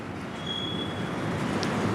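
A CSX freight train crawls slowly past at close range, with a steady rumble of rolling wheels and rail noise, a brief high squeal and a faint sharp click, continuous and without voices.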